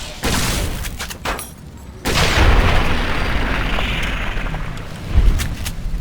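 A fire grenade goes off in Fallout in the Divide wasteland with heavy booming blasts. A loud burst comes near the two-second mark and is followed by a sustained fiery roar, with further thuds and crackles of combat around it.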